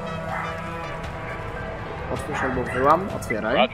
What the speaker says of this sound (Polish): Mam nadzieję, że słyszycie, jak mi psy szczekają.